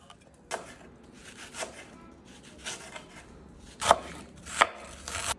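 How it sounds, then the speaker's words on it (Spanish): A knife chops onion on a cutting board for caramelizing, with several sharp, separate chops spaced irregularly at close range in a quiet kitchen. "Cortamos la cebolla para caramelizarla."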